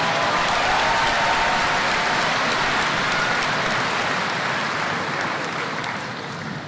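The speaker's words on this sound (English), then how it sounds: "Give them another round of applause, students." A graduation audience of students applauds in a steady, dense wash of clapping that fills the whole stretch, loud and sustained with only a slight easing toward the end.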